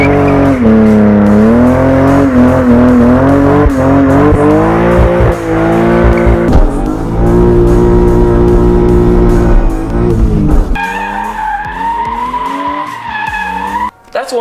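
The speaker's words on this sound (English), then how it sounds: "I have some residue here from doing burnouts." A car doing burnouts, its engine revving hard and steady while the tires squeal continuously at close range, loud throughout with a sharp shift in pitch near the end.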